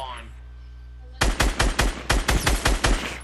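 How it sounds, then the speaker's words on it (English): A sniper's gunshots in the video game Fortnite. After a quiet start, about nine loud, sharp, evenly spaced shots ring out in quick succession. "Oh my god, I'm getting shot from afar."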